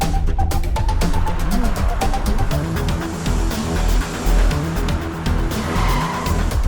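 Cartoon getaway cars race off recklessly through red lights, engines roaring loud and close with repeated tire squeals and skids over a steady motor drone, no talking.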